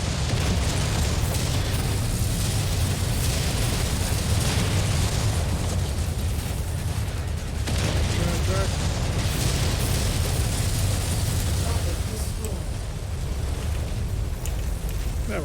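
Continuous barrage of SRM missile explosions in the MechWarrior 5 video game, dense overlapping booms and bursts at steady high loudness throughout, with no clear pauses.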